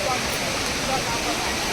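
The Tirathgarh waterfall at Jagdalpur, Bastar sends a steady, dense rush of falling water that fills the scene at close range, with no other sound standing out.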